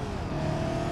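Sustained engine roar of a car revving in BeamNG.drive, loud and steady with a constant high whine and gritty, racy texture throughout the short burst.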